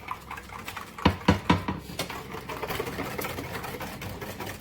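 Evaporated milk is stirred into leche flan batter in a bowl, a few sharp clinks of a utensil against the bowl followed by quieter continuous rapid whisking and scraping, close up with no talking.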